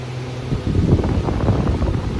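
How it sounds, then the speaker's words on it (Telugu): An air cooler whirs steadily close by with a low hum, joined by gusty, rumbling air noise. "కూలర్ వేసి ఇప్పుడు సౌండ్ వస్తుంది బర్రు అని"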